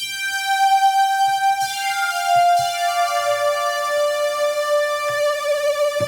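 A bright, sustained Studiologic Sledge synthesizer lead tone with rich harmonics and a high-pass filter holds steady, then slides slightly downward, with a faint wobbling vibrato and no voices.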